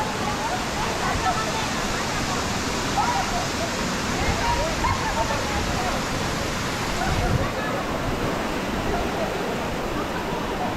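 Mantayupan Falls in Cebu, Philippines roars as a loud, steady, broadband rush of falling water that stays constant throughout, heard close up.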